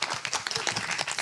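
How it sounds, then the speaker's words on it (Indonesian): Audience clapping at a live music event, a steady burst of applause filling the room for just over a second with no voices on top. "Pertanyaannya itu kasih tepuk tangan nih."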